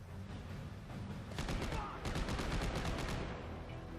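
Rapid bursts of gunfire from the video game Dead Space 3, a run of closely spaced shots over a steady background rumble, fairly loud and without talk.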